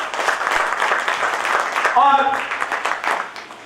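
An audience at a student union founding day celebration applauds with a broad, continuous clatter of many hands, with a voice speaking over it.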